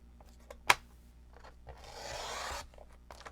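Paper being trimmed carefully for a craft card: a sharp tap, then a soft rasping cut of about a second, close and quiet with no talking.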